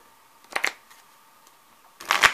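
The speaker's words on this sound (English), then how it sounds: "Shuffling the item deck." Item cards shuffled for a board game deck: two short papery riffles, one around the half-second mark and a louder one near the end, with quiet between them and no talking.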